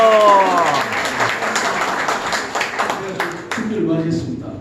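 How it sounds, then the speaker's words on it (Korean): An audience at a lecture applauds with a burst of clapping that tapers off while a person keeps talking over it. "박수 한번 주십시오."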